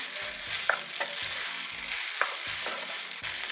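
Thai-style nasi goreng fried rice with sauce being stir-fried in a pan, a continuous sizzle broken by rhythmic spatula scrapes and tosses every half second or so, close and alone without voices.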